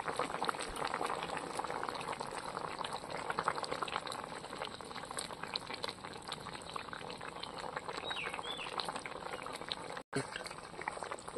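A pot of fish and taro curry made with kan magur fish and cumin paste bubbles at a steady simmer, a soft continuous seething and popping that stays quiet and even throughout.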